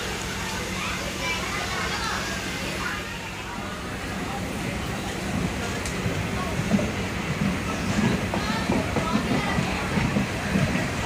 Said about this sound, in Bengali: এই ট্রেনটার ক্রসিংয়ের জন্যই আমাদের ট্রেনকে দাঁড় করিয়ে রাখা হলো